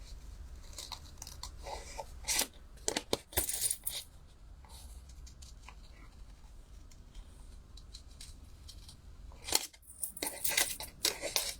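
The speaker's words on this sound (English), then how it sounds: "now we need to fussy cut this one because we do" Scissors fussy cut designer series paper, making faint, close snips and crisp crunches in irregular clusters with quiet gaps between them. There is no talk.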